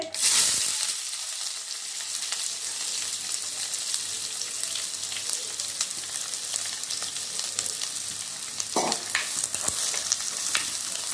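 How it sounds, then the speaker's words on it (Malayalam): A sharp burst of sizzling as chopped onions hit hot oil with popped mustard seeds, settling into continuous loud frying with occasional stirring scrapes. "കടുക് പൊട്ടിയതും ഉള്ളീനെ ഇട്ടിട്ട്"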